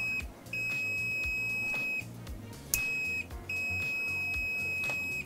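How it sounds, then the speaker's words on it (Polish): Feizer FZ829 multimeter continuity tester with its probes shorted together, giving a loud, close, high steady beep that cuts out and restarts several times, with short gaps between the tones. "Przy zwarciu sond za pierwszym razem jakby łapie od razu,"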